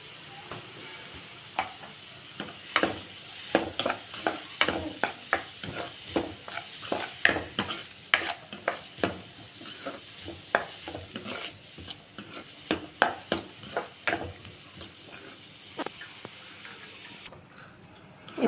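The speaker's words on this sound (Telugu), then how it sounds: "ఈ ఆనియన్స్ కూడా కొంచెం లైట్గా వేయించుకోవాలి, గోల్డెన్ కలర్ వచ్చేటట్టు." Onions lightly frying with a pinch of salt in a pan while a spoon stirs them, a soft constant sizzle punctuated by irregular close scraping clatters, with no talking.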